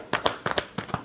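Tarot cards being shuffled in quick bursts, several crisp riffling flutters spaced by short pauses, close and fairly quiet with no talking.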